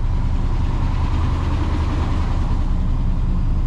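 A 1989 Chevy K3500 4x4 with a 7.4-litre big block 454 V8 idles in a steady, loud, continuous low rumble with an even throb and no talking over it.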